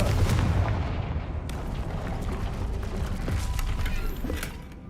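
The Confringo blasting spell in Hogwarts Legacy, a burst of crackling impacts and booming blasts at the start followed by scattered creaks, pops and debris that fade out over several seconds, with no speech.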